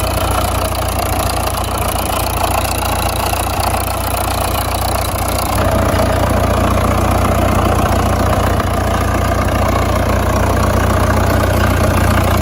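A 1962 Fordson Super Major tractor with a 54-horsepower, 3.6-liter diesel engine runs at a loud, steady idle, its constant rumble shifting slightly in tone partway through.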